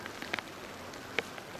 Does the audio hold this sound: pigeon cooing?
no